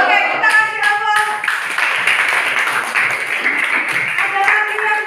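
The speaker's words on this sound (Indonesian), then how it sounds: "Oke, kita kasih aplaus." A classroom of students claps together for a classmate, steady applause lasting several seconds, with a teacher's voice and some speech mixed in at the start and end.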